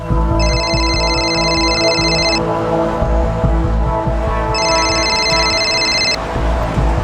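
A telephone rings with an incoming call in a two-burst electronic pattern, each burst lasting about two seconds with a pause between, heard over a steady low hum.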